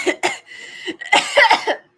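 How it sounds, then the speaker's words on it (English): A person gives a short run of loud, close, rough coughs with a raspy voiced quality, over about two seconds. "I cough."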